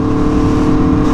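Loud, steady engine note from an Aprilia Tuono V4 running an SC-Project CR-T aftermarket exhaust, a continuous close-up rumble that holds level throughout with no gaps.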